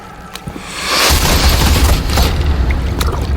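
A volley of arrows fired in the video game Assassin's Creed Valhalla, a loud rushing whoosh-and-boom burst of many shots following a few scattered sharp clicks.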